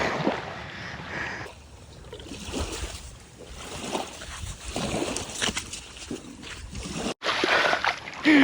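A 34-inch gar thrashes and splashes back into the water beside a boat, a stretch of sloshing and watery churn with a sharp burst of splashing near the end.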